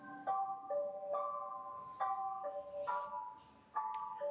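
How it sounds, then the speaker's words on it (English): An ice cream truck plays its tinkling electronic melody at a distance, the bright notes stepping along steadily and faintly over quiet outdoor background. "There's an ice cream truck."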